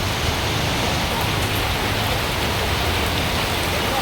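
Heavy rain pours down outside in a loud, unbroken wash of noise, constant and close, with no talking.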